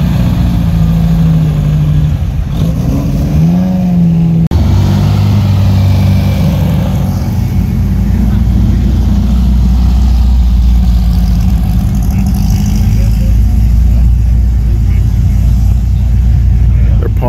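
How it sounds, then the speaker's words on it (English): Vintage cars at a concours d'elegance labor up a hill, their engines rumbling and idling loudly nearby, with a rising rev partway through and a steady low drone after, under a speaking voice. "A little bit of a hill here that they have to climb. Some of them are struggling."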